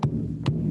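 A hand drum resting on a lap is tapped in a soft heartbeat rhythm, two low, muffled thumps about half a second apart over a steady hum.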